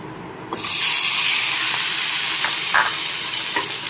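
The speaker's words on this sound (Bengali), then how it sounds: "এখন চিংড়ি মাছগুলোকে নেড়ে চেড়ে ভেজে নিচ্ছি" Loud, steady sizzling of shrimp frying in hot oil, starting abruptly and continuing throughout with a few brief stirring clinks.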